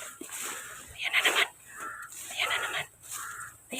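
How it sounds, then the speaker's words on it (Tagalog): A crow cawing from a tree outdoors, several harsh rasping caws in spaced bursts, fairly close, with light ambient noise between calls. "Palagi akong sinusundan ng uwak"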